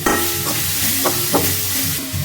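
Tomatoes sautéing in a pan for betel leaf chutney, a continuous close sizzle with a few scraping stirs spaced through it, no voices.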